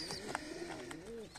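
A pet pigeon kept for breeding gives a single soft, low, drawn-out coo, close by but quiet, with no voices over it.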